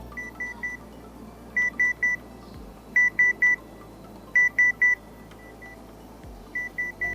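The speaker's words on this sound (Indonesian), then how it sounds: "Bakal kedengeran tuh suara beep gitu di HP kalau diaktifin Find My TWS-nya" A vivo TWS Neo earbud locator sounds through a phone, emitting repeated groups of three short, clean electronic beeps spaced a second or so apart over a low background hum, moderately quiet and close.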